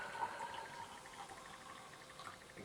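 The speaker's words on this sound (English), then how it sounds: "We'll pour out a wee bit heavily." Blue Millionaire fizzy bubblegum drink poured from a tin into a glass, a faint continuous trickle and fizz lasting a few seconds, close and quiet, with no voices.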